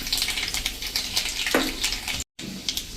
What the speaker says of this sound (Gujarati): આ 2 થી 3 કળી મેં લસણના આ કળીના પીસ કરી લીધા છે એ નાખી દેશું